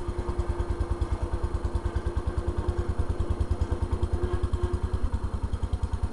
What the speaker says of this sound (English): The John Deere is actually running. So I'm just gonna go for a little joyride.